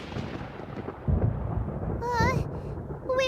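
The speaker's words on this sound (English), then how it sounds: "Paimon used thunder!" Thunder cast by Paimon in the video game Genshin Impact, a deep rumbling boom that lands abruptly and rolls on, followed by a bright magical chime and mixed with other game sounds.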